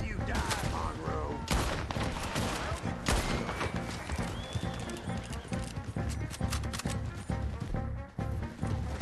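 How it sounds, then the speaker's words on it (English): Rapid pistol shots crack repeatedly during a Red Dead Redemption 2 gunfight with dual-wielded revolvers, loud and dense over hoofbeats and horse noises, with shouting voices mixed in. "Dual wielding pistols."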